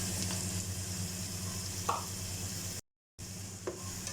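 Garlic-ginger paste frying with browned onions in a pot for pulao: a steady, loud sizzle with a few scraping stirs, cut by a brief dropout of silence before the sizzling resumes.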